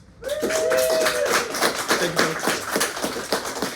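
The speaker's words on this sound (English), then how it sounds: "let's give Ted another round of applause." A room full of attendees at a sustainable tourism talk breaks into a round of applause for a speaker, dense clapping building quickly and continuing with uneven bursts, a faint voice briefly heard near the start.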